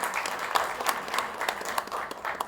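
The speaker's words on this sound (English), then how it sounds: "Please give a big round of applause to them." Crowd at a native food day celebration applauding a winning team, a short burst of continuous many-handed clapping with distinct nearby claps standing out.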